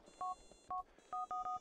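Phone keypad dialing tones in Grand Theft Auto: four short dual-tone beeps, evenly spaced and clearly audible, with no talk over them.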